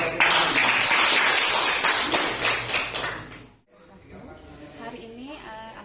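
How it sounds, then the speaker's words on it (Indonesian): An audience at a school event breaks into brief applause. The clapping is loud and busy for a few seconds, then fades away. Voices and background sound carry on afterward. "kita kasih tepuk tangan untuk"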